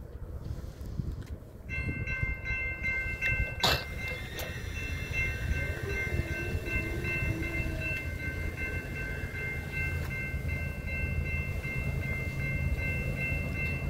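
BNSF 5101, a slow double-stack freight train at La Plata, Missouri, passes with a steady heavy rumble of wheels and cars, while a sustained horn chord sounds through most of the passage.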